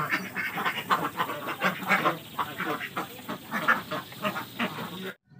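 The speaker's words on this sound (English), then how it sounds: "We have a duck." A duck quacks again and again in quick, uneven bursts, loud and close, until the sound cuts off abruptly just before the end.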